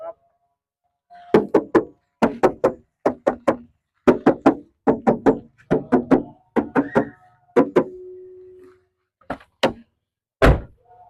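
Silver 2004 Isuzu Panther LM car doors opened and shut repeatedly in a showroom, a long series of close, solid thunks and latch clicks in quick bursts, with someone talking softly between them.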